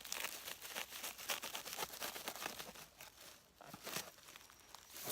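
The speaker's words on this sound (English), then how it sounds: "If I just grab my knife now, work out where the bulk of the material is, and I just want to trim that off." A knife trimming the bulky bundled material of a handmade camp broom outdoors, a close, continuous dry crackling and rustling with repeated crunchy cutting strokes, fairly quiet, no talking.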